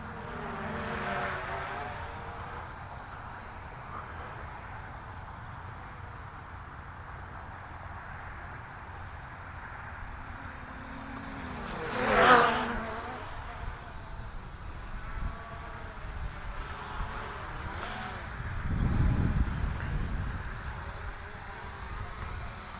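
Hubsan H501S quadcopter drone flying in altitude hold mode, a faint steady whine heard from a distance with a brief louder swell as it passes, under light wind noise.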